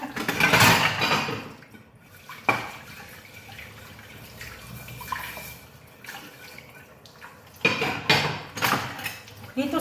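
Dishes clatter noisily while being readied for a dishwasher in a workplace kitchen in Cyprus, with loud bursts of clinking crockery and splashing water at the start and near the end, and quieter rattling between them.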